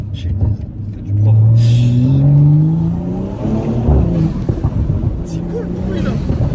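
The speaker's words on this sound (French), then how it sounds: "Voilà, c'est triple dump valve." A BMW 340i engine tuned to Stage 2 with a triple dump valve revs up loudly, its pitch sweeping higher, then drops with a sharp burst as the throttle closes, while people talk nearby.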